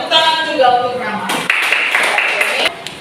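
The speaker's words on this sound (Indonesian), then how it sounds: "Tepuk tangan juga untuk Rama." Classroom applause for a student, a burst of clapping from a group of pupils that starts after a moment of voices and continues steadily at moderate loudness.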